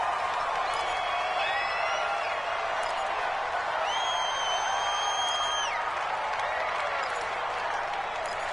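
Steady broadband roar of a large football stadium crowd in a PS4 football game, a continuous noisy wash with faint whistling tones rising above it midway, heard alone without talk.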